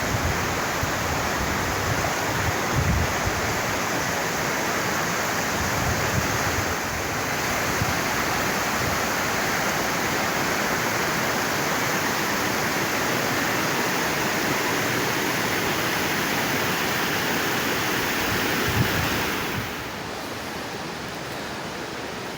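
Canikdere waterfall in Tonya, Trabzon, heard as a steady, loud broadband rush of falling water that holds unchanged throughout and drops slightly at the very end.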